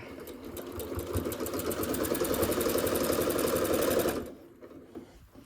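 A sewing machine stitching a tote bag, running steadily with a rapid mechanical whirr and rhythmic needle clatter for about four seconds, then stopping abruptly into quiet room noise.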